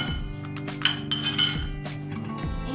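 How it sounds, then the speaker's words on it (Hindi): Four eggs being beaten in a glass bowl, with repeated light clinks of the utensil against the glass and no talking. "इनको अच्छी तरह हम हिला लेंगे।"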